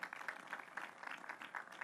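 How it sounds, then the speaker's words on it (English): An audience at an economic development announcement applauds local town supervisors, a faint, steady patter of distant clapping. "So let's give them a round of applause as well"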